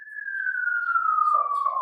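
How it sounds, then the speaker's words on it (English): A single steady siren tone slowly falls in pitch, sounding at a distance outside a courtroom during a trial, with no other sounds. "Siren."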